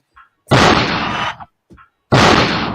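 Two loud, sustained blasts like gunfire sound effects, close and harsh, separated by a brief pause with small clicks.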